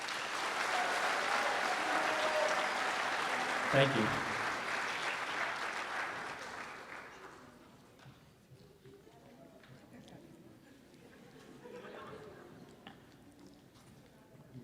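Applause for the ISA officers at a university international night show fills the room loudly for about seven seconds, then fades into softer scattered clapping and crowd noise under a brief spoken thanks.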